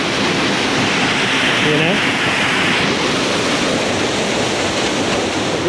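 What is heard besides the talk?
Cascade Falls waterfall raging after rain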